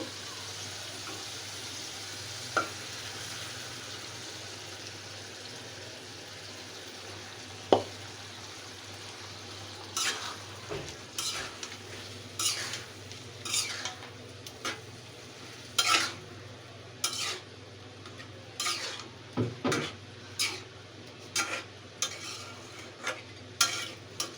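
Fried, boiled mung dal being added to a pan and stirred while making rui fish head muri ghonto. Faint low hiss opens the clip, then a long run of rapid, close scraping stir strokes follows, with no talk.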